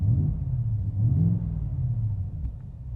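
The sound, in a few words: 2024 Ford F-150 Raptor exhaust revving in normal mode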